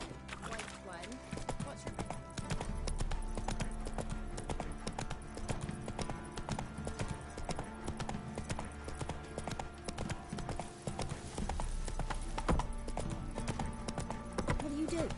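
Roach the horse gallops in The Witcher video game with loud, continuous rhythmic hoofbeats and a game music bed, while a voice speaks over the top for much of the clip.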